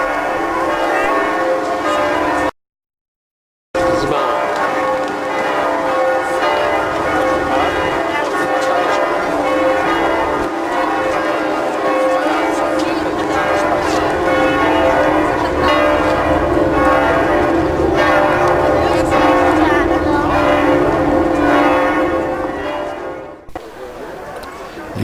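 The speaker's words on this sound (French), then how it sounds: "Vite, il faut y aller, les cloches nous appellent." Church bells of Notre-Dame church in France ring steadily and fairly loud outdoors, a dense continuous peal after a brief gap, with faint murmuring voices beneath.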